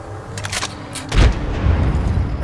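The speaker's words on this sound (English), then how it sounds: "Grenade out!" A grenade explodes in the video game Apex Legends with one deep, heavy boom after a few sharp bursts of gunfire. A rumbling low tail follows, close and loud.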